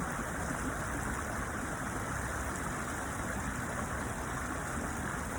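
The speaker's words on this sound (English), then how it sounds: "So as I listen to the water flowing," Steady flowing water with a constant broadband rush, continuous and even throughout, with no voices.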